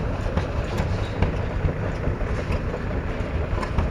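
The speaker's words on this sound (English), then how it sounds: "It's a Bessemer out of Grove City, PA." An old Bessemer gas engine built in Grove City, Pennsylvania, runs at an outdoor tractor and gas engine show, giving a steady low chugging rumble with faint rhythmic pulses under wind noise, and no one talking.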